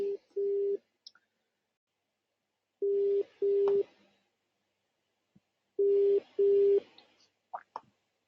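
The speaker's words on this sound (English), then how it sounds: "That sounds like it's engaged" Telephone engaged busy tone: three pairs of short steady beeps, each pair separated by silence, heard faintly down a phone line with small clicks in between.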